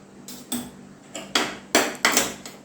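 Knife slicing through a crispy toasted sandwich with mozzarella cheese, giving about five sharp crunchy cuts in a short uneven series, close and fairly loud, with no talking.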